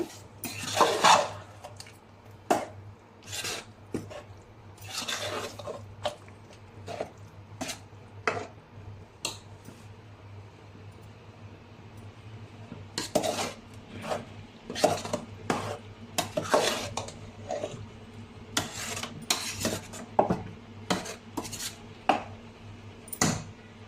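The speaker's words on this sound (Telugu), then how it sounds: "టమాటా పేస్ట్ కూడా యాడ్ చేసుకుందామండి ఇదంతా బాగా మిక్స్ చేసుకున్నాము" Chicken gravy with tomato paste being stirred in a pan, heard as repeated sharp clacks and scrapes of a spoon against metal in irregular bursts over a low background hum, close and alone.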